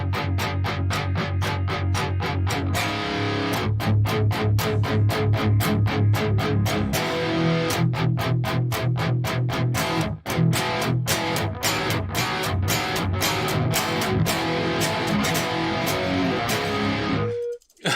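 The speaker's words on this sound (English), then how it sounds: "now we've got basically a dry guitar with distortion on it" Dry electric guitar through distortion with the delay effect switched off, a thick, driven chugging riff of tight palm-muted chords and rhythmic stabs, played alone, with a brief pause midway and an abrupt stop at the end.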